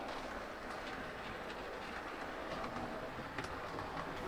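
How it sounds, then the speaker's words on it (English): A small model electric train arrives, rolling along with rhythmic clicking of wheels on track, a steady whirring rumble at moderate distance, no voices. "the first slow train from Chichester to Portsmouth arrives"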